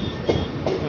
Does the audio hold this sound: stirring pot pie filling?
no